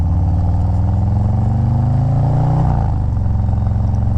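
A Harley-Davidson motorcycle with an M8 engine runs steadily at close range, its low throbbing exhaust note rising slightly in pitch before easing back to a constant idle-like rumble.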